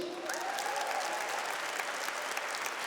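Steady applause from a church audience during a sermon, a dense, even wash of many hands clapping close and continuous throughout, with no talk over it.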